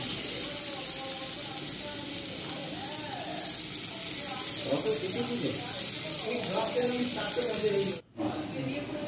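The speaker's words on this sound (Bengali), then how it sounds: "পেঁয়াজগুলো ভাজা হয়ে গেছে" Onions fry in a pan with a steady, close hiss while cooking a sea crab curry, while indistinct voices carry on in the background.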